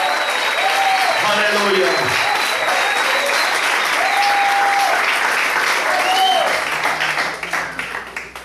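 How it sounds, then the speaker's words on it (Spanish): A church congregation applauds during a sermon on the tabernacle, a dense sustained roar of many hands clapping with a voice calling out over it, tapering off toward the end. "Eso se merece un aplauso."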